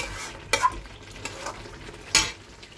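Chicken for biryani fries in a pan as its water cooks off, under a low steady sizzle, with two sharper scrapes of a spatula stirring against the pan.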